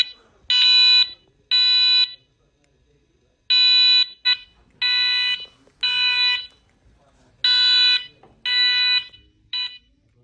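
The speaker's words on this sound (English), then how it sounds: "this alarm just starts going off" Electronic alarm in a movie theater sounding in loud repeated bursts, each about a second long, with short and longer pauses between them, in an otherwise quiet room.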